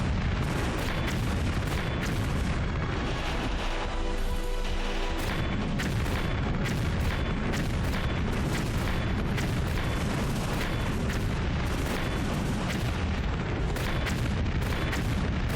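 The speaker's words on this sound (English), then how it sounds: "It's a good thing that Laura is, like, explosion-proof" Explosions in the Tomb Raider III video game, a dense barrage of loud booms and bursts rumbling on continuously with game music beneath, no pauses.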